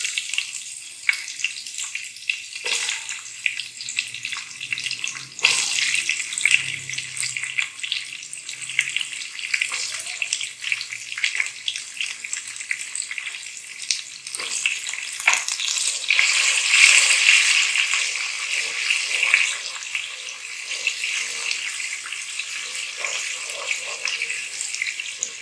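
Onions sizzle and crackle in hot oil with cumin seeds and sugar, a dense steady frying hiss lasting throughout, close and moderately loud, with a few faint clinks.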